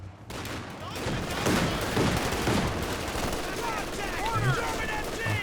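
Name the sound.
machine gun fire in video game Company of Heroes 2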